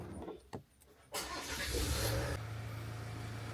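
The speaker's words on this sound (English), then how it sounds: "And now we're gonna go start the truck." A Chevy truck engine cranks and catches, with a brief starter whir and a surge as it fires, then settles into a steady low idle hum, close by and without talk.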